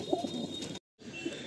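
Pigeons in a loft coo in a steady, close murmur of overlapping calls, broken by a brief gap of near silence before the cooing resumes.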